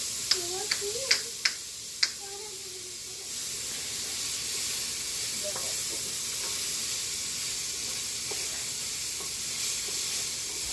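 Diced onions sauté in a pan with garlic and chicken, a steady broad sizzle running throughout, opened by a few sharp clicks of utensil on pan, close and moderately loud.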